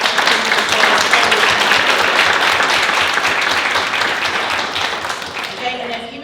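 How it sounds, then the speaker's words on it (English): A big round of applause at a small business awards ceremony, loud sustained clapping from a room full of people that slowly fades toward the end. "So let's give a big round of applause."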